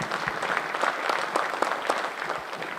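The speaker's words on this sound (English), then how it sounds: "I'd like for all of you to give yourselves a round of applause" Audience applause at a forest partnership summit in Texas, a steady wash of many hands clapping indoors with scattered louder claps, sustained for the whole stretch without voices.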